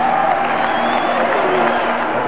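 A stadium crowd of more than 100,000 roars for a Michigan touchdown against Iowa in a 1992 college football game, a dense, steady wall of cheering and applause that holds at full strength for the whole stretch.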